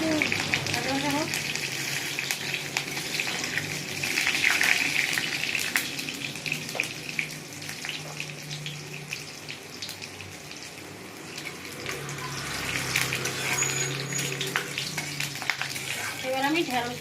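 Nigella seeds with chopped green and dried chillies fry in oil, giving a continuous close sizzle broken by scraping stirs and occasional clinks, with faint speech in the background.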